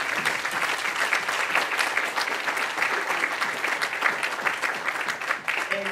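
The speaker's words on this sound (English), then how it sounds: "can you guys give them a big round of applause?" A church audience at a vacation Bible school Sunday gives the stage volunteers a dense, steady round of applause that carries evenly from start to finish.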